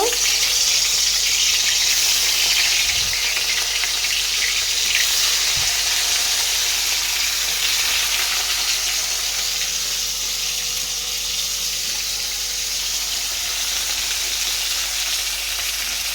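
Fish frying in hot oil in a home kitchen, a steady loud broadband sizzle holding throughout with faint low knocks beneath it, no talking.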